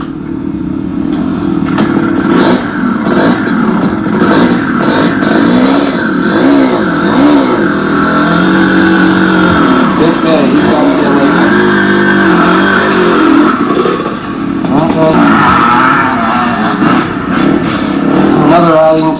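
A 1987 enduro motorcycle's engine revs hard and continuously up close as its rear wheel spins in ruts, the loud droning rise and fall running throughout, with a voice talking over it.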